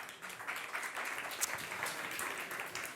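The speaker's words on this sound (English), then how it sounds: "I'd like to ask a huge round of applause for them." An audience at a startup pitch competition claps in steady, sustained applause that stays dense and even throughout, with no voices standing out.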